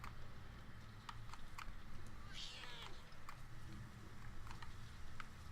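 A cat meows in the video game Murdered: Soul Suspect, with a brief rising call near the middle over a steady game ambience and scattered light clicks.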